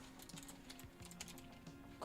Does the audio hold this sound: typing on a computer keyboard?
yes